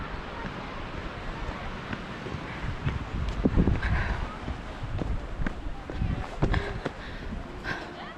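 Cool wind blows along a riverside, buffeting the microphone with a constant low rumble, while faint distant clatters and a voice come and go beneath it.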